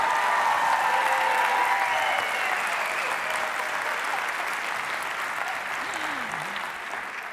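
Sustained applause from an audience at a talk, loud and dense throughout, fading slightly toward the end with a faint whistle-like tone near the close.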